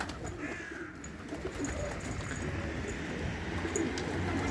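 Pigeons coo softly on a sunny evening, faint calls over a steady background hum, with a few higher chirps scattered through.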